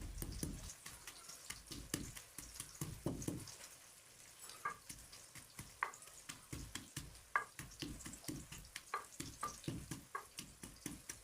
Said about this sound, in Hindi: साथ साथ हमने चम्मच भी चलाते रहना है ताकि हमारे प्याज ना जल जाए